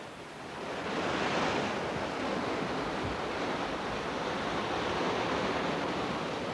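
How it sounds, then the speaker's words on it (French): Mediterranean Sea waves wash against the Nile delta coast, a steady, fairly soft roar of surf with some wind noise and no voices. "avec frayeur la Méditerranée ronger la tête du delta"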